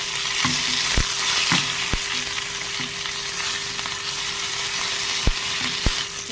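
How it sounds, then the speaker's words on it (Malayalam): Curry leaves and mustard seeds fry in hot coconut oil, a dense close sizzle punctuated by sharp, scattered pops and crackles at irregular intervals, with no talking. "നമ്മുടെ കടുക് പൊട്ടിക്കഴിഞ്ഞു ഇനി നമുക്ക് കറിവേപ്പില ഇട്ട് കൊടുക്കാം"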